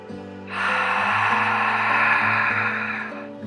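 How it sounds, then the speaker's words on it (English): A long, breathy exhaled "ha" with a hoarse, constricted throat hiss, lasting a few seconds over a low sustained background tone. "create a tight constriction in the back of your throat, and make a ha sound"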